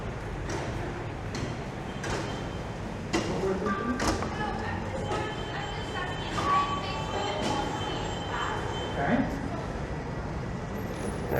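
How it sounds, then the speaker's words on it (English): A southbound Toronto streetcar passes on a city street, bringing rumbling rail noise with thumps and faint metallic squeals amid traffic and street bustle, while people talk nearby. "a southbound streetcar"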